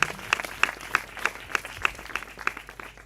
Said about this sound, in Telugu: చప్పట్లు కూడా ప్రభువుని గొప్ప చేయండి.